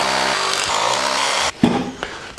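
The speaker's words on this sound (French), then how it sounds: "Et après, je vais venir percer pour mettre mes cavaliers." A power drill bores into a wall while fibre installation is being prepared, a loud, steady grinding whine that runs for about a second and a half, then cuts off, followed by a few short knocks.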